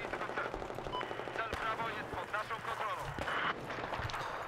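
Battlefield 4 multiplayer gunfire pops and bursts in the distance beneath someone talking over it, short scattered shots mixed with game effects.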